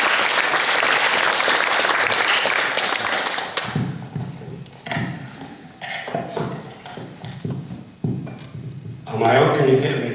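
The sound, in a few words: audience applause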